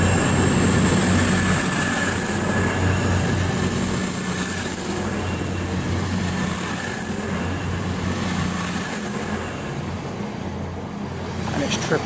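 A Class 222 diesel passenger train rumbles steadily past at Chesterfield station, engine drone and rail noise sustained throughout with a high whine on top, swelling slightly midway.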